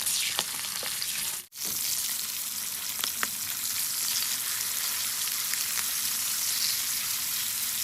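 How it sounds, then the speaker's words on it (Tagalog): Pork belly (liempo) frying in a pan, with a steady dense sizzle and crackle throughout, a brief pop or gap near the start, and scattered spits of oil popping over the continuous hiss. "So ang ginawa ko dito ay prinito ko lang"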